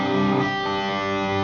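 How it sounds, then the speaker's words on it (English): Electric guitar played through a HeadRush amp simulator dialed to a Marshall Plexi-style tone, with reverb and delay added: a sustained, lightly distorted chord ringing steadily and close, trailing into echoing ambience. "So we got the reverb on with the delay."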